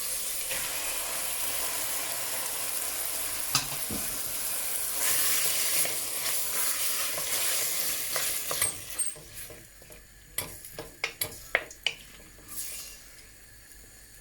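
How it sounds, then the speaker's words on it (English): Tomatoes hit a hot pan on high heat for pasta puttanesca, giving a steady close sizzle and hiss that thins out into sharp utensil clicks and scrapes as they are stirred. "Tomatoes go in."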